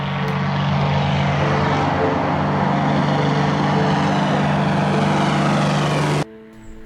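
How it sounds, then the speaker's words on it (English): A Highlander tail-wheel light aircraft takes off downhill, its propeller engine droning loud and steady at close range for about six seconds before cutting off abruptly into quiet. "In case of a tail wheel like this one, Highlander, taking off, when you start your roll, you don't see nothing because it's downhill."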